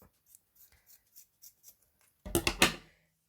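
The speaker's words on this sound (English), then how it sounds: "So I'm just gonna put my scissors through here" A few quick, crisp scissor snips close up, cutting through yarn while making a chunky tassel, following a run of faint, soft ticks and rustles.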